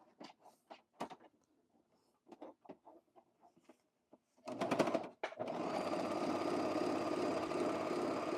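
Sewing machine stitching blazer fabric starts up loud and steady after a few scattered knocks and clicks, with a short burst of rough mechanical rattling as the needle breaks, close and sustained.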